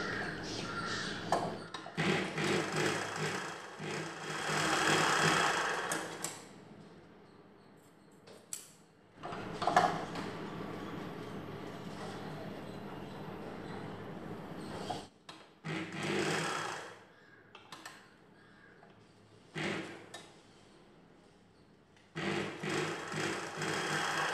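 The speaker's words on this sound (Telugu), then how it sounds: "కాజాల బెల్ట్ లోపల వైపున కుట్టి పై వైపునకు ఫోల్డ్ చేయాలి" A sewing machine stitches the inner side of a katori blouse belt in repeated bursts of whirring, separated by quiet gaps and rustling of fabric as the piece is repositioned.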